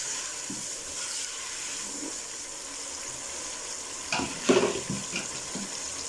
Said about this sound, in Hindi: अभी थोड़ा सा इसमें पानी डाल देंगे ताकि मसाले की अच्छे से भुनाई हो सके।